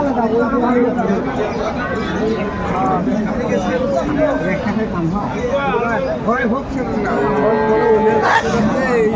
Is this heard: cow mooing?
yes